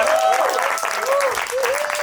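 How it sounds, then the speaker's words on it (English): Steady applause from an audience, a dense wash of clapping with a voice speaking over it. "Clap, clap, clap, clap."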